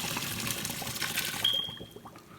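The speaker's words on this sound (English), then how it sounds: "Now I'm going to add a little water in it to cool it real fast, cold water." Cold tap water is poured over freshly boiled pasta in a pot, making a steady close splashing trickle that keeps running throughout at a fairly soft level.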